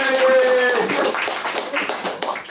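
An audience at a talk on UK subcultures applauds, a dense spread of clapping across a room, loud and close for a couple of seconds.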